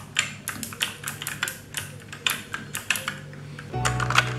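Someone types on an NYK KX-1000 Venom Pro keyboard with clicky blue switches and an aluminium cover, producing a close, uneven run of sharp key clicks that ends with a low hum.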